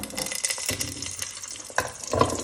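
Small peeled onions drop into hot oil in a pan for prawn biryani, sizzling steadily up close, with a louder sputter near the end and no talking.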